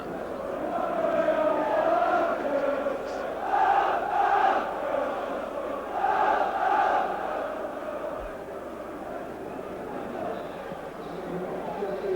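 The football crowd at Stamford Bridge murmurs at half-time during Chelsea versus Manchester United, a broad, steady roar with swelling chants, carrying on beneath a commentator's voice.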